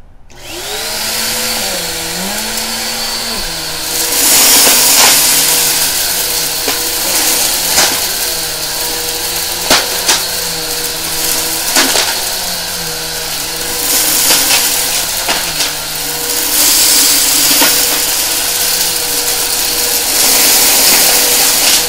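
A vacuum cleaner runs continuously through a torture test, its loud steady motor drone shifting in pitch as it labours, with intermittent sharp clatters and rattles of debris being sucked up.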